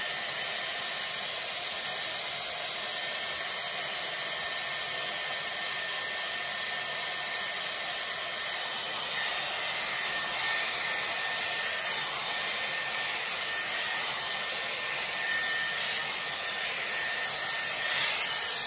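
A Dyson Airwrap with a round brush attachment blow-drying hair gives a loud, steady airflow roar that runs unbroken throughout, with faint brushing and rubbing textures over it and no talking.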